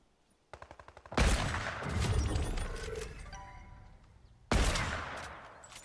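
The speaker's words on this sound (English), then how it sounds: "Shoot him with the assault rifle." Assault rifle fire in a video game: a short rapid burst, then a loud sustained stretch of gunfire with crashing impacts that slowly fades, before another sharp volley hits near the end.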